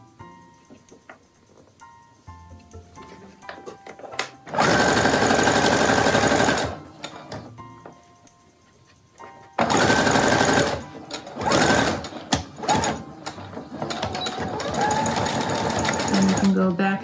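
A sewing machine stitches elastic onto a fabric face mask with a filter pocket, running in two loud bursts of rapid mechanical whirring, then shorter stop-start runs, with quieter handling sounds in between.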